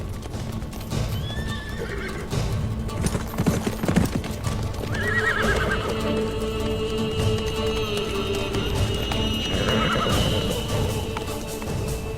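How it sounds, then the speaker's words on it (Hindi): Horse neighing several times over steady clip-clopping hooves in a historical drama scene, the whinnies loud and close against a continuous background of hoofbeats and ambience. "ये घोड़ा तो शहजादे अलाउद्दीन का है"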